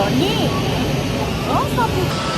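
An airplane flies overhead somewhere in Germany, giving a steady broad roar that lasts the whole moment while voices talk over it.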